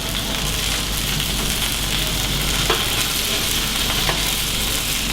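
Chicken and artichoke pieces fry steadily in a paella pan, a dense continuous sizzle with a couple of faint utensil clicks, loud and close with no talking.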